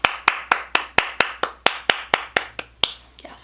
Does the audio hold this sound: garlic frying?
no